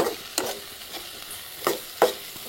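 Chopped green chillies and capsicum with salt being stirred in a pan: a few scraping strokes of a spoon against the metal, close and fairly loud, over a low sizzle.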